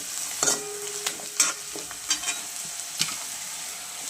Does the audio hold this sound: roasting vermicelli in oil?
yes